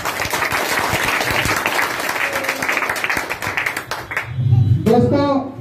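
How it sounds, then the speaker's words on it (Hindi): An audience at an Independence Day event in Simrahi Bazaar claps in a dense, loud burst of applause that fades out near the end, followed by a raised voice. "एक बार अपने लिए, खुद के लिए ऐसा ताली बजाइए, लगे कि सिमराही बाजार में कुछ हो रहा है।"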